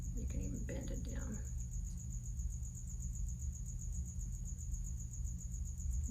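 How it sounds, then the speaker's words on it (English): A cricket chirps indoors in a steady, continuous high-pitched trill over a low background hum, while a brief stretch of talk-like sound comes at the start. "You hear Mr. Cricket?"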